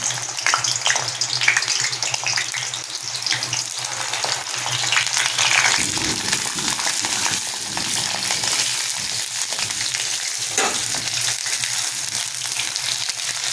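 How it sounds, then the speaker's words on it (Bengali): Pointed gourd (potol) frying in hot oil in a wok, a loud, dense, continuous sizzle close by with occasional stirring rustles. "এবার ভালো করে পটলগুলো ভেজে নেব"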